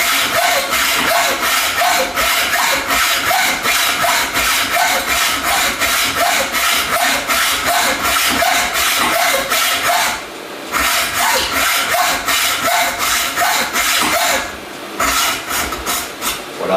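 A hacksaw cuts slowly in steady back-and-forth strokes, each a loud, close, rasping pull. The rhythm is even throughout, with brief pauses near the end and no talking.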